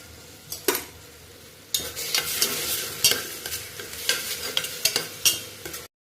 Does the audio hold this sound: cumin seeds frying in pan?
yes